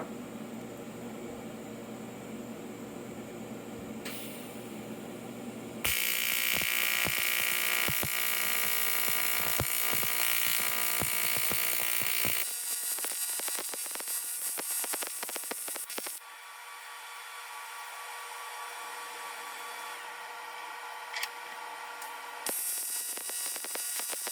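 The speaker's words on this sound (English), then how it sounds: "So as I'm going along, I'm welding the bottom part." A welding torch runs on a joint as the bottom section is welded, giving a steady hiss and crackle that changes in intensity and tone over several long stretches, with no talking.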